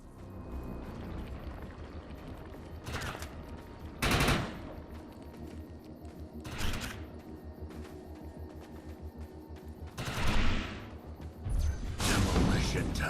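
Overcharged gunfire in the video game Defiance rattles along as steady rapid shots, broken by several sharper, louder bursts at irregular intervals, with a voice speaking at points.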